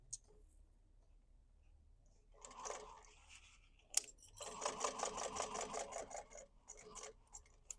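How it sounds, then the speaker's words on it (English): A sewing machine stitches the side of a fabric basket, starting with a short faint burst and then a longer, steadier run of rapid needle clatter, close but quiet, with no voices. "flip it around and sew the other side"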